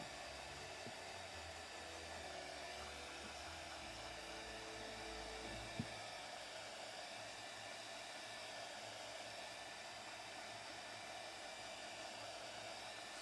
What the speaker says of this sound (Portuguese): procura sempre usar o secador ou o soprador com um pouco de distância, tá? Só o suficiente para secar a tinta.